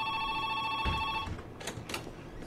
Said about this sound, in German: Jetzt geht vorne das Telefon.